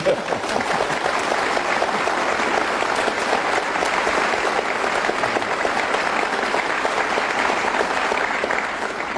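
An audience applauds at a special program with the Chief Minister of Sarawak, giving loud, dense, continuous clapping that fills the room evenly from start to finish without a break.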